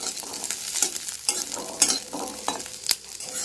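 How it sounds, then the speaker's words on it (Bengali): Peeled garlic cloves fry in oil in a wok over low flame, sizzling steadily while a utensil stirs and scrapes in irregular, fairly loud strokes close by. "কড়াইয়ের মধ্যে তেল রয়েছে, তেলের মধ্যে ছাড়িয়ে রাখা রসুন দিয়ে দেব।"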